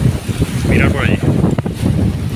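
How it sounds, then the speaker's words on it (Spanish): Strong wind gusting over a sailboat under sail in force 5-6 following winds with two-metre waves, a loud steady roar with microphone buffeting, and a voice speaks briefly over it. "Una racha."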